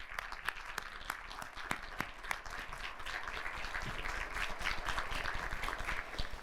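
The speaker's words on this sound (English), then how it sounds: "let's please give them a round of applause" An audience at an MLK commemoration keynote claps for about six seconds, with sharp individual claps at first that swell into dense, sustained applause.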